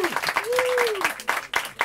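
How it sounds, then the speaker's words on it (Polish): Concert audience clapping as a Brazilian guest, Igor Alves, is welcomed on stage, with irregular claps and crowd noise under a voice calling out over the applause. "Wielkie brawa!"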